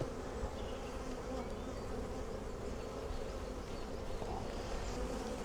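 Honey bees buzz continuously around a breeder queen hive, a faint, dense, even drone of many wings with no voices.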